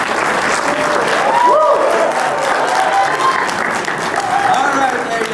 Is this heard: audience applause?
yes